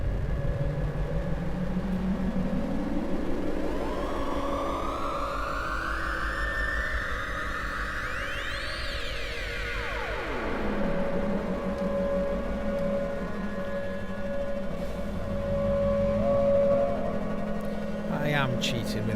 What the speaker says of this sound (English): sort of a drone synth.